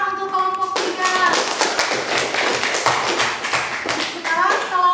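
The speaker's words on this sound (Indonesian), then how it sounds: "Tepuk tangan untuk kelompok 3." Children in a classroom clap for a student group after its presentation, a quick burst of many hands that stays lively, with young voices calling out over it.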